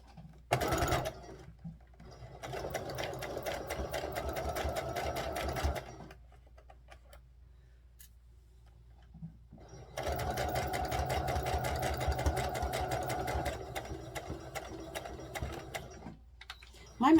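A home sewing machine labors through thick fabric layers in two long, steady runs of rapid mechanical chatter, close and loud, with a quiet pause between them.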